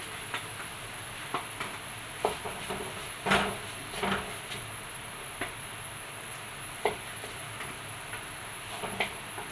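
Cooked okra rice being stirred and mixed in a pan, with soft scraping and clinking taps at irregular intervals over a steady faint hiss, close and fairly quiet.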